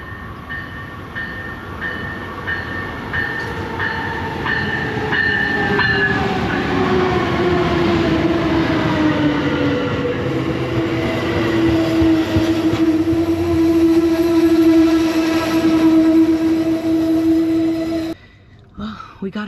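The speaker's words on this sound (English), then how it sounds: "All right, our train is arriving." An Amtrak passenger train pulls into Van Nuys station, a steady loud rumble with rail clatter and squealing brake tones that slide downward as it slows, ending abruptly.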